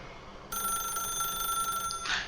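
A telephone rings in the video game The Stanley Parable, a steady bright electronic trill holding for about a second and a half before breaking off into a short, harsher burst, loud and close with no talk over it.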